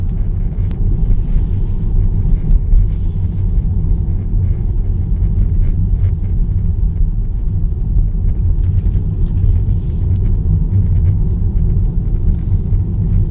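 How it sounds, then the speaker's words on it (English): Steady low rumble of tires on pavement at speed inside a 2023 Tesla Model 3 electric car, with a faint wind hiss and no engine note, continuous and moderately loud throughout. "When you get up to speed, you can hear some of the road, but it is not that harsh."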